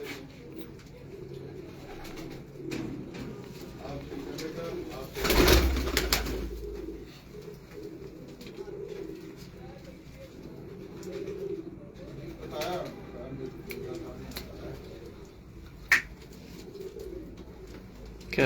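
Pigeons coo softly on a rooftop in Multan, low murmuring calls repeating under steady background noise. A louder rush near the middle could be wings flapping, and faint voices come and go.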